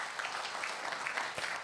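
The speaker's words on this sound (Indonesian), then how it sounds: "Tepuk tangan lebih keras." Church congregation clapping during a sermon, a steady dense patter of many hands filling the space without a break, moderately loud, with no voices standing out above it.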